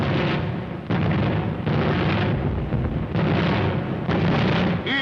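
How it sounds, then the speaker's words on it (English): English anti-aircraft flak fires during a WWII German bombing raid on Coventry, a heavy rumbling barrage of blasts arriving in several loud, dense waves with low-fidelity old-film quality. "Die englische Flak ist auf dem Posten."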